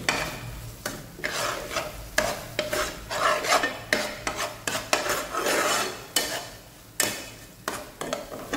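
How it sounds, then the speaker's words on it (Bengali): Palak paneer, spinach with cottage cheese and spices, stir-fried in a pan: steady sizzling under repeated scraping strokes of a spatula against the metal, close and continuous for several seconds with no talking. "এবার এটাকে আমি 2 মিনিটের মতো ভুনে নেবো এই মশলার মাধ্যমে।"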